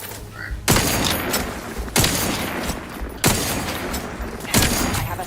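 Gunfire in the video game The Outer Worlds comes as four loud, dense bursts of rapid shots spaced about a second apart, each dropping off into a sustained noisy wash, close and dominant.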